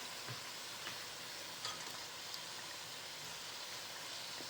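Shrimp dropped into a pan of curry sizzle with a steady, fairly quiet frying crackle and a few faint clinks and stirring taps, with no talking.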